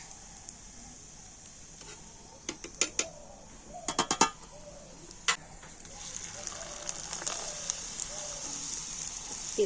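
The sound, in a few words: rice pitha frying in hot oil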